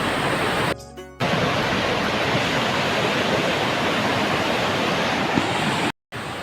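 Powerful rushing water roars continuously, a broad steady torrent close by, with two brief dropouts in the sound.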